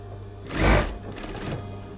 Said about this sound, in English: we're going to be stitching this edge down onto the other edge.